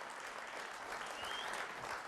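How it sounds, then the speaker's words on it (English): An audience at a North Texas athletic conference celebration applauds in a continuous, fairly distant wash of clapping that holds evenly for the whole stretch. "Yeah, give him a round of applause."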